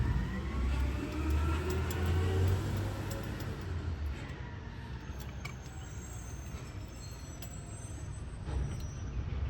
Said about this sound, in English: Of course, when the garbage truck's going by.